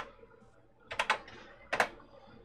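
Two quick bursts of keystrokes on the TheC64 Maxi computer keyboard, soft plastic clicks tapped close up in a quiet room.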